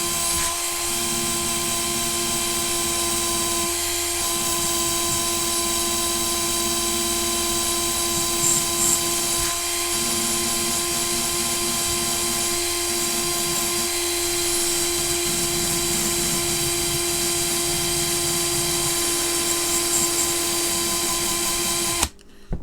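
A power tool whirs continuously while stripping rust from a vacuum cleaner brushroll, a steady high-pitched tonal whine with brief dips in its grinding undertone as the tool meets the metal.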